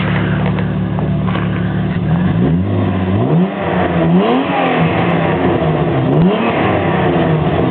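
A car engine revs up and down repeatedly, rising and falling in pitch with a steady loud drone throughout, close by and alone without talk.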